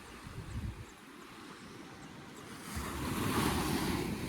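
Waves wash onto a clear, blue-water sea beach on India's Konkan coast, a steady broadband surf that swells louder toward the end, with some wind buffeting the microphone and no talking.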